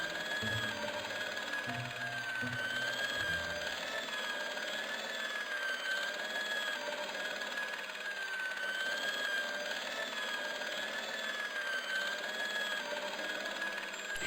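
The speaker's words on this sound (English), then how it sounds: "It was an industrial polishing machine with an odd-looking guy in tow." An industrial polishing machine in the game Broken Sword: Shadow of the Templars gives off a continuous buzzing, ringing mechanical whine with a steady high tone and wavering overtones, sustained throughout with no talk.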